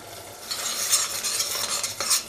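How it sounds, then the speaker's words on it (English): Spiced soy mince with turmeric, cumin and coriander cooks in a pan while a spoon stirs it, making loud scraping strokes in quick bursts over a continuous sizzle. "Let this simmer, it becomes a lovely color with all the spices and the turmeric"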